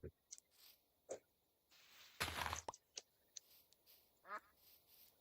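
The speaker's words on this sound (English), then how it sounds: "Oh, a duck." Several short duck quacks from the Minecraft modpack TerraFirmaGreg, scattered singly across the scene with a burst of louder rushing noise in the middle and a rising, warbling call near the end.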